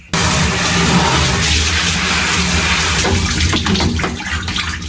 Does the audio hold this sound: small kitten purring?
no